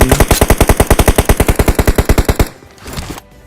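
Continuous automatic fire from an M416 rifle in a video game, a rapid even burst of about twenty-five loud shots lasting over two seconds, then a quieter trailing rumble.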